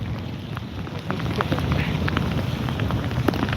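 Strong Cyclone Montha wind roars steadily against the microphone in Nellore, India, a continuous broadband rush with faint rain patter mixed in.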